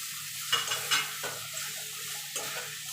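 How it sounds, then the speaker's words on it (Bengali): Spice paste with tomato stir-fried in oil for a Bengali chicken and potato curry, heard as a steady low sizzle broken by several scraping stirs of a spatula in the pan, close and without voices. "এবার মশলাটাকে একটুখানি কষিয়ে নেব যতক্ষণ মশলা থেকে তেল না ছেড়ে আসছে।"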